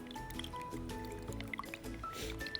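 A craft solution is stirred with a small splash of water, giving close, wet squishing and dripping sounds over a steady murky background, with a few clicks and a tonal hum running underneath.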